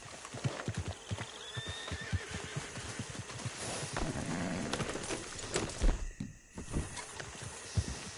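Horse in a PS4 video game whinnying loudly amid steady clip-clopping hooves, with scattered thuds and rustling and a brief quiet dip near the end.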